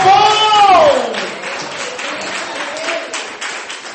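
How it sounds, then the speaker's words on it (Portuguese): A church congregation applauds after a voice briefly rings out, the clapping filling the room in a steady, moderately loud patter of many hands. "Você pode aplaudir ao Senhor?"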